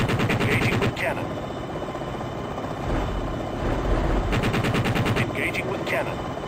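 Rapid bursts of helicopter cannon fire from an attack helicopter in the video game Jane's Longbow, loud rattling volleys at the start and near the end over a steady rotor drone.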